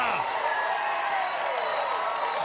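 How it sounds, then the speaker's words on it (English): Crowd roaring and applauding at a men's doubles gold medal pickleball match, a dense continuous wash of cheering and clapping filling the arena, with a commentator talking over it. "That'll get a roar out of the crowd"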